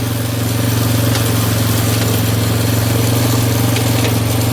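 Steady idle of a rebuilt Yamaha Warrior ATV engine running out of gear, a loud continuous low throb with a fast even pulse close to the microphone, holding level throughout with no talk.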